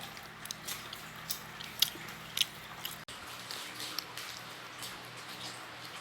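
Someone bites and chews grilled sticky rice cooked in microwave paper instead of banana leaf, with soft crunchy bites and moist chewing sounds, close and quiet, with no talking.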